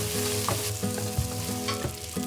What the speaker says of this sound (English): Stir in the optional white wine and deglaze the pan, being sure to scrape up any brown bits.